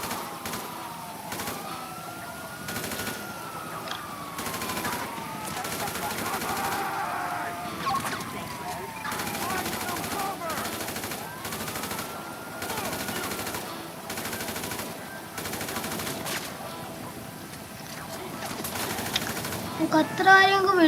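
Gunfire in Grand Theft Auto V during a three-star police chase, with repeated bursts of shots under wailing sirens and a helicopter, alongside a player talking.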